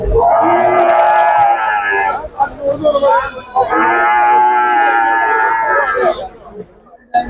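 Cattle and calves lowing at a rural livestock market, loud, drawn-out moos in two long calls, with voices and crowd chatter in the background.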